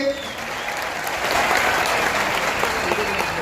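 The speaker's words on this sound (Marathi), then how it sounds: "म्हणून एकदा जोरदार टाळ्या वाजवायच्या विचार मंचासाठी." An audience at a student career guidance gathering in Nanded claps loudly for the stage, a thick, even wall of applause that builds slightly after the first half-second and holds steady.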